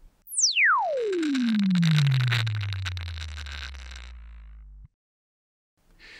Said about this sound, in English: This actually has a loose solder bead trapped inside the voice coil gap.